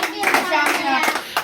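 A group of children claps loudly together in thanks to a donor, a brief burst of uneven hand claps mixed with children's voices calling out.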